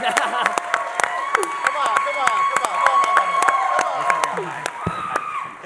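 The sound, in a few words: audience applause and cheering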